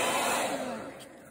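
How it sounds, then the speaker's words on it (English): A hair dryer blows with a loud airy whoosh that fades over about a second as it winds down, a voice briefly audible beneath it. "Let me hold the hair dryer."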